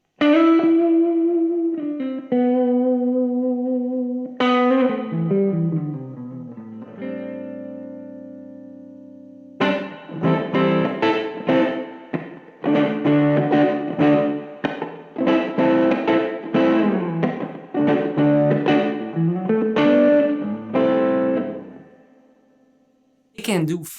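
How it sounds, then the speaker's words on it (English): Ibanez JSM20 semi-hollow electric guitar in its out-of-phase pickup position, thin and nasal, plays sustained notes, then a busy rhythmic run of choppy funky strums, close and solo with a fade at the end. "And then up, which is out of phase, sounds something like this."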